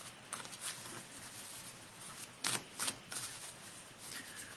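Tarot cards are shuffled by hand, soft papery riffles and patters in quick bursts with a couple of sharper snaps, close and quiet with no talking.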